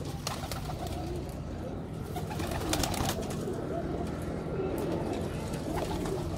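Pigeons of the Ali Wala breed cooing in low, throaty repeated calls, close by, over a busy background of rustling and faint voices.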